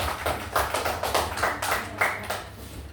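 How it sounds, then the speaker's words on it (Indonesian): Children in a classroom clap their hands together, a loose rhythmic patter of many claps, moderately loud and steady. "tepuk tangan"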